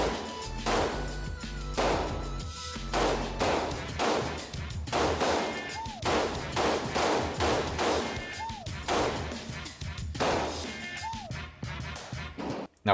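Repeated pistol shots from a Dagger handgun at an outdoor shooting range, sharp loud cracks at an irregular pace over roughly a dozen seconds with faint metallic clinks between them.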